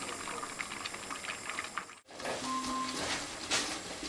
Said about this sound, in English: So this is the good simmer that I was talking about.